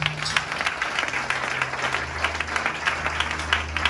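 A church congregation claps and cheers in acclamation during a sermon on Psalm 138, dense sustained applause from a crowd heard at moderate distance.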